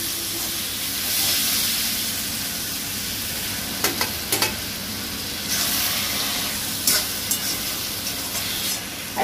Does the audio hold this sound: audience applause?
no